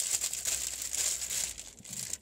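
Plastic packaging crinkles and rustles up close as a parcel from China is repacked, a steady run of bright crackling handling noise with no talk.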